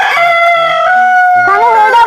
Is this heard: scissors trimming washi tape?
no